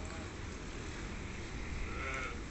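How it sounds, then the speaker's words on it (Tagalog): Sheep bleating on a small farm, a drawn-out bleat rising near the end over a steady, dense outdoor background. "At mga tupa."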